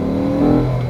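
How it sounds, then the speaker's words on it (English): A Honda Accord V6 from the seventh generation, CM6, revs hard into VTEC with a loud, steady engine drone that rises slightly in pitch over a brief moment, no talk. "oh, the VTEC noise is so good"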